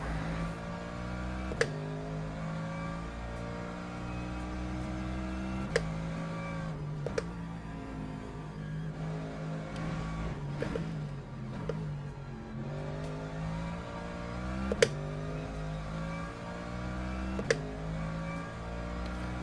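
A race car engine drones steadily in the Le Mans Ultimate racing game, its tone rising and falling through gear changes with a few sharp shift clicks, moderately loud and with no voices.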